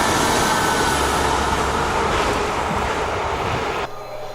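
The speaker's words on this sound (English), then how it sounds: "that's a southbound one, and that's on the running main line. And come northbound." A train rumbles past loudly and close on the running main line at Kenilworth Junction, a steady roar and rattle of wheels that cuts off abruptly near the end.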